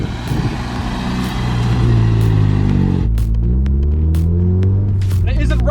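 A rebuilt Honda Civic is driven on the road, its engine giving a loud, close rumble that climbs in pitch, drops around a gear change, then climbs again, with faint road noise.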